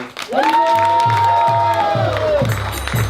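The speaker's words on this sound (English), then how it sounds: "So, first of all, a big round of applause" Audience applause and cheering in a hall after a devotional drama staged by ISKCON Boston devotees with children, with loud continuous clapping under a rising whoop-like voice and crowd noise.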